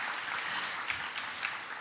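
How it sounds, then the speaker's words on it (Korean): A conference audience at the opening of the NEMO 2023 mobility event claps together in a brief, fairly faint patter of applause, steady throughout. "크게 박수 치셔도 됩니다"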